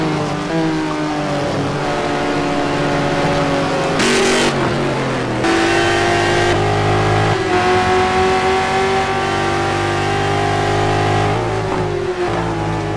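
GT race cars roar around Sebring in a sim racing game, engines droning loud and steady throughout as they rev through gear changes, with several cars audible and no talk.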